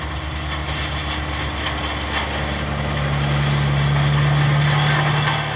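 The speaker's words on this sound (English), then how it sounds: "This tractor is easily the most successful from the compact series." A Schlüter Compact 850 tractor idles at a classic tractor field day, its diesel engine giving a steady low rumble with a droning tone that swells slightly louder toward the end, with no speech.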